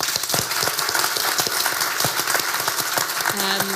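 Audience at a retail talk event gives a dense round of applause, close and steady, with a faint tone near the end.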